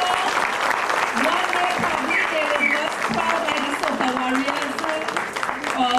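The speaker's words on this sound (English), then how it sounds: "So let's have a nice round of applause." A church audience at a Presbyterian gathering in Trinidad gives a sustained round of applause, dense and steady throughout, with voices murmuring underneath.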